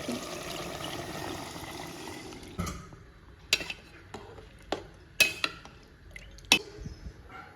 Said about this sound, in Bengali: এখন মশলার জলগুলো দিয়ে দেবো